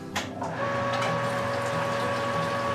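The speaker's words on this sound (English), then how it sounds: "I got 165-66 degree water in my brew pot there, so I'm gonna pump me over" An electric pump moves hot water at about 165 degrees into a brew pot for a pumpkin and brown sugar whiskey mash, giving a steady mechanical hum with a faint liquid rush and a brief knock near the start.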